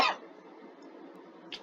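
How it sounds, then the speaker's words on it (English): A single short cough at the start, close and sharp, then faint breathy noise and a tiny click near the end. "You just cough at the wall."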